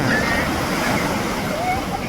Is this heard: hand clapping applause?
no